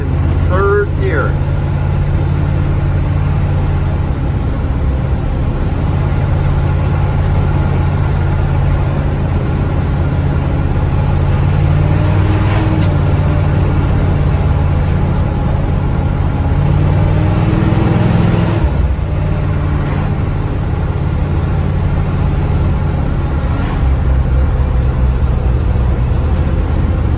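A 1976 Chevy squarebody truck pulling in third gear: a loud, steady engine drone with road rumble that holds continuously, faint engine swells rising over it.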